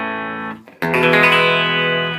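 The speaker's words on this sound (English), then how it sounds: "I'm playing right now through the clean channel with my Ibanez guitar with a humbucker pickup." An Ibanez guitar with a humbucker pickup rings through the clean channel of a Crate GX-60 amp: a sustained chimey chord that fades, a brief pause, then a loud strummed chord ringing out bright and full.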